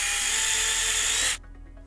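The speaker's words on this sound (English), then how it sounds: "I can only drill it into the aluminum." A power drill bores into aluminum for a Boba Fett jet pack build, a loud high-pitched whine held steadily for over a second before cutting off abruptly into near silence.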